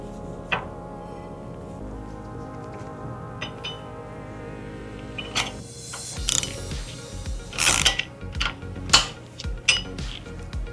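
Nuts being snugged onto an axle bracket on a 1957 Chevy rear end, heard as scattered metallic ratcheting clicks and taps, sparse at first and then denser, louder bursts toward the end, with no talking.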